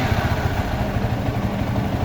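A Yamaha Xabre motorcycle engine runs at idle with a steady, close mechanical drone and light clatter, holding an even level throughout with no talk.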